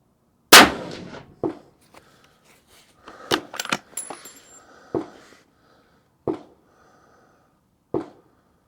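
A .300 PRC rifle firing an H1000 load gives one sharp, loud, close report that rings out and decays, followed by scattered metallic clicks and clatter from the action and a few later sharp knocks.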